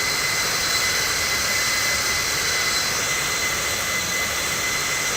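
Steady, loud jet engine roar of an Air France A318 airliner during takeoff from a short runway in the Infinite Flight simulator, a continuous broadband rush with no voices over it.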